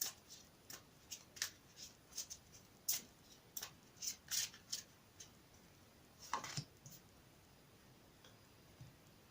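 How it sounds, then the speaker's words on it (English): A tarot card deck is given a quick shuffle, a series of crisp, light riffling snaps and taps, close and fairly quiet, coming in irregular bursts with short pauses between them. "I've shuffled this deck already, but I'll give it a quick shuffle again."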